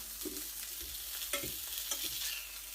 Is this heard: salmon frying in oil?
yes